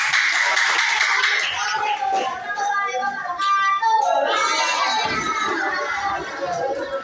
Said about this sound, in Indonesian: Tepuk tangan untuk kelompok 1 dong.